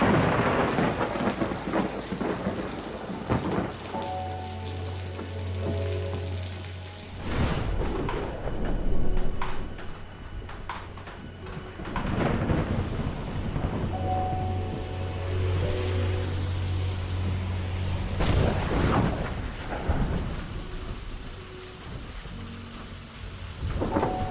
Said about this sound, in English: It has been raining for 3 weeks without break or respite.